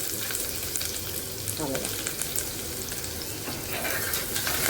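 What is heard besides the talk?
chopped onion frying in oil with garlic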